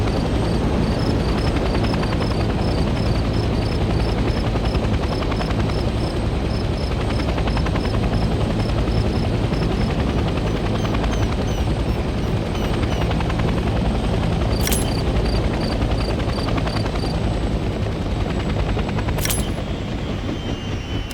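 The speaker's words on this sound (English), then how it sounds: "Let's land the helicopter on a helipad and turn the engine off." Military helicopter in the Hell Let Loose: Vietnam video game setting down on a helipad, a loud continuous rotor thrum and engine whine holding steady close by, with a couple of brief high clicks near the end.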